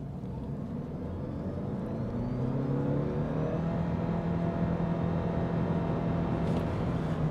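A 2024 Mitsubishi Outlander PHEV hybrid SUV with 248 horsepower accelerating hard from a stop, heard from inside as a steady engine drone with rising whine and road rumble building over several seconds.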